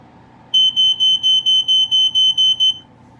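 A Coleman Sheltra photoelectric smoke alarm beeps in a rapid series of about ten high-pitched pulses, loud and close, then stops.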